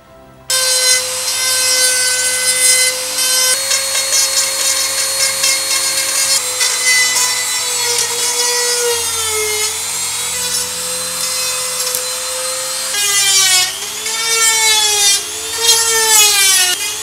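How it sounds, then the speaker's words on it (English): Dremel rotary tool grinding through terrain model battlements, a continuous high whine whose pitch wavers and dips as the bit bites into the material, loud and close with no talking. "So we'll grind through all of those, put in some beautiful aging"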